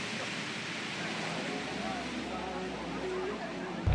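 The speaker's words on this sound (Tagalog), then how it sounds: "Sa ngayon po ay umuulan pa rin at umiihip pa rin ang hangin." Rain falls outdoors while strong wind blows, a steady, broad rushing hiss that stays fairly even and moderately loud throughout.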